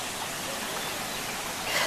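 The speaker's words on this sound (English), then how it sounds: "a little bit closer to the waterfall right now." Steady broadband rush of falling water from the Waimea waterfall, continuous and even, growing slightly louder near the end with no voices.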